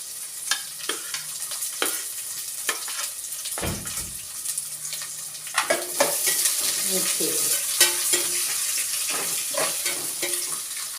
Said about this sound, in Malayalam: ഉള്ളി നല്ലപോലെ ഫ്രൈ ആവട്ടെ കേട്ടോ.